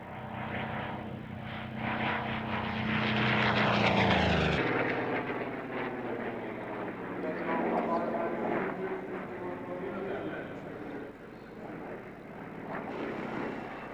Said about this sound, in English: Formations of warbirds are a regular feature of Duxford's airshows.